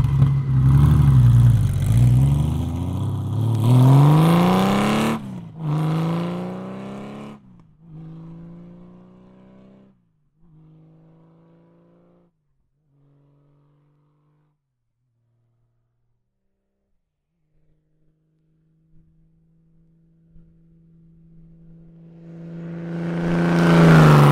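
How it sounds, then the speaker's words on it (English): A Honda Goldwing motorcycle with an Egg Exhaust revving close by, several rising and falling throttle blips that fade into a long quiet idle before building again at the end. "I'm going to put a clip in of that Egg Exhaust for you to hear."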